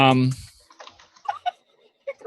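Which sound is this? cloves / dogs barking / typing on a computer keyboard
typing on a computer keyboard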